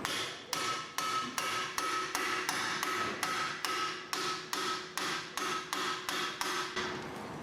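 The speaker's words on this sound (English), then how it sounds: "the way you want to get rid of those is with an impact screwdriver here" A hand impact screwdriver is struck with a hammer again and again to break loose Phillips screws on a 2001-2005 Honda Civic front brake rotor. About a dozen sharp metallic blows land at a steady rhythm, loud and close, with no talking.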